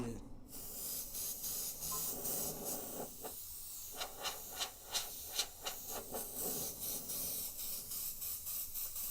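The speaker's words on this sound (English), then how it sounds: "that ain't nothing but me spraying the paint" An airbrush sprays paint in short hissing bursts and longer steady hisses, close and fairly quiet, repeating in a loose rhythm with faint background noise.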